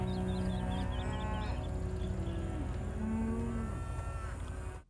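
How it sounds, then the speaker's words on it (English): Cattle mooing in long, drawn-out calls, several overlapping lowing voices, loud and close with no talking. "He's checking on the cattle."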